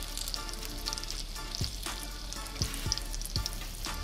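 Surf perch sizzling in a pan over low heat, giving a steady soft crackle with a few light knocks, close by and with no talking.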